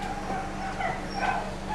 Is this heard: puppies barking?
yes